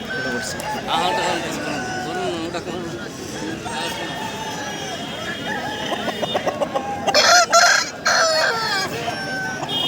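Roosters crow and hens cluck at a rural poultry market in Balarampur, Purulia, with big Assel-type cocks for sale; nearby birds call repeatedly over constant crowd chatter and bargaining voices, with a loud cluster of crows near the end.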